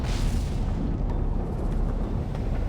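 A blast explosion set off after a fire-in-the-hole warning, heard as a sustained loud rumbling roar with dense low-end energy that persists steadily throughout without a distinct onset.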